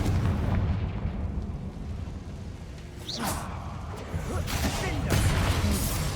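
The Confringo fire spell blasting in the Hogwarts Legacy video game, with deep booming explosive bursts and rumbling impacts that swell and fade, mixed with game voices.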